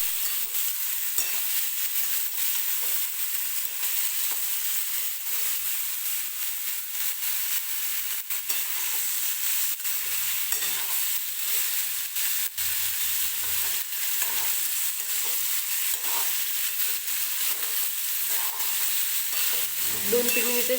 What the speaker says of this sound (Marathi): 2 ते 3 मिनिटासाठी फक्त हे आपल्याला तेलामध्ये परतून घ्यायचं आहे.